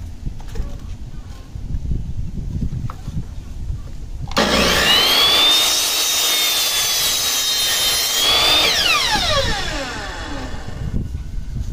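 Handsaw cutting the factory edge off a wooden board while building a bookshelf, a loud stretch of rasping strokes lasting about four seconds between quieter workshop sounds, with some faint talk.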